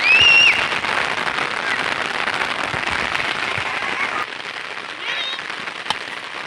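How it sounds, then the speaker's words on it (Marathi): Heavy rain sweeps in across an open Konkan village cricket ground at evening, a loud, steady broadband roar that holds throughout and eases slightly toward the end, with a few faint bird calls. "समोरून जोरदार असा पाऊस येतोय"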